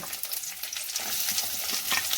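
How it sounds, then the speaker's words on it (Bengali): Chopped garlic and onion frying in a pan with bay leaf, cloves and cinnamon, a steady close sizzle broken by soft stirring scrapes throughout. "এগুলো আমি ভালো করে ভেজে নেব"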